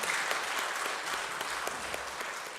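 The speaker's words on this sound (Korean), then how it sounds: "하나님께 영광의 박수를 올려드리겠습니다." Congregation applauding during a Sunday worship service at a church, a steady, dense wash of clapping that holds even throughout, with no voices over it.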